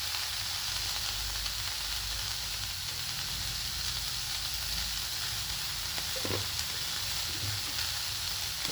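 Vegetables sizzle in a hot pan after a pinch of salt goes in, for egg fried rice. The frying is a steady, close, even hiss with no voices.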